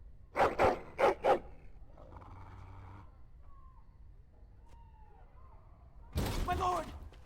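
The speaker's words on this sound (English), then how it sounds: "Angry barking, the dog stares at the door and growls." Three sharp, loud barks from a dog in Dragon Age Origins, angry and aimed at a door, followed by quieter rumbling and faint ambient sound, then a burst of loud commotion at the end.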